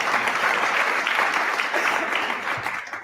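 Steady, dense audience applause from a crowd reacting to a political speaker, sustained and fairly loud throughout with no voices on top.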